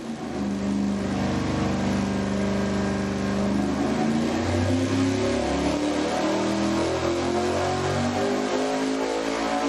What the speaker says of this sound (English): now we're gonna find out how that changes when we accelerate it twice as fast at 600 RPM per second